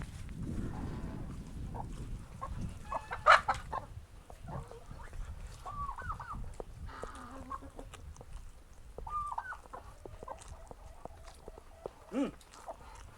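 Chickens cluck and squawk intermittently at close range amid a busy mountain farmyard with ducks, geese and turkeys, with a cow lowing and a few scattered voices in the background.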